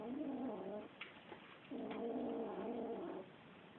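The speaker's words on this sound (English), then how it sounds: "the 2 kittens are trying to both eat it. And then they're growling at each other" Two kittens growl at each other while competing over a bowl of sheep meat, two long low rumbling growls separated by a brief pause with small sharp sounds, close and clear.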